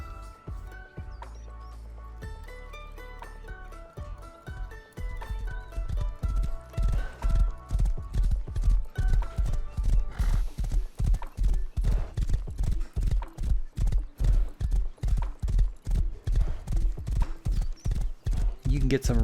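A fast horse gallops in the game Rust, with rapid rhythmic hoofbeats pounding close and loud over ambient music, beginning with a whinny.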